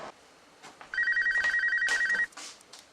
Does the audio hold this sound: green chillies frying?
no